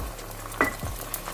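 Tomato paste is stirred into frying spices in a pan, a soft sizzle with a sharp spoon scrape and a brief clatter, alone and close.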